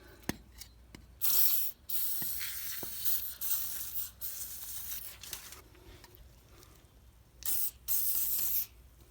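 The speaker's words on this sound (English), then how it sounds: "You're going to want to spray it in here and around the front where the threads are here." Several bursts of penetrating oil spray hiss up close onto bolt threads on a 2000 Dodge Dakota wheel hub, separated by brief pauses and small clicks of handling, with no voices.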